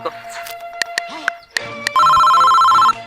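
A telephone ringtone sounds during a phone call, a loud steady electronic tone lasting about a second near the end, with people talking and clicks beforehand.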